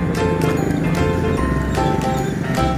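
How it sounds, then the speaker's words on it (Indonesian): The hooves of a white horse clip-clop at a steady pace during a Betawi ondel-ondel street outing, close and fairly loud. Traffic and crowd noise run underneath. "Ada kuda guys, warna putih."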